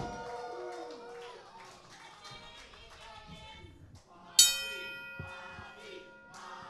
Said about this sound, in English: The bell has sounded.